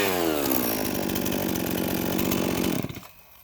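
A Husqvarna 51 chainsaw, found complete after sitting dry in a shed, runs loud and steady close by for almost three seconds, then cuts out abruptly as the engine dies away.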